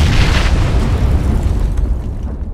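A grenade explodes in the PUBG battle royale game with a loud, full-bodied boom whose rumbling roar lingers and slowly fades over a couple of seconds, heard on its own.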